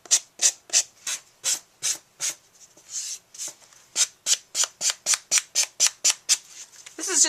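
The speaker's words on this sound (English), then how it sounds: "I'm going to go around the edges with my file, because I have a little bit of glue on the end, and this will rub the glue off for me." A regular nail file rubbed back and forth along the edges of a craft magnet board to scrape off dried glue, giving a steady series of close, crisp rasping strokes in an even rhythm, with no talk.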